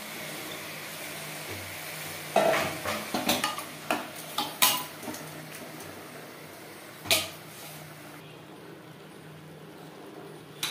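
Marinated mutton stirred and fried in a pot over high-to-medium flame, a low sizzle beneath a handful of sharp spoon clanks and scrapes against the pot, spaced irregularly and close.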